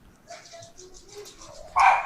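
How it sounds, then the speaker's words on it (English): A dog barks indoors during a live tornado warning broadcast in North Carolina, giving one sharp, fairly loud bark at the end after a stretch of faint background sounds. "I'm going to need to get my dog to stop barking."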